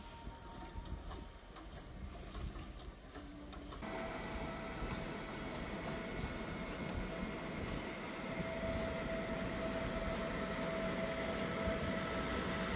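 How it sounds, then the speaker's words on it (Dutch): A train pulls into Apeldoorn station, its rumble and hum swelling into a sustained, steady drone after a few seconds, with a faint tone running beneath, and no voices. "Zo, mijn trein is er."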